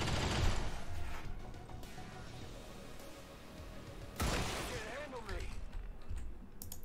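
Rapid-fire gunshots from a rifle in XCOM 2: Long War of the Chosen, a dense burst of cracks at the start and another burst midway, loud against steady game background noise.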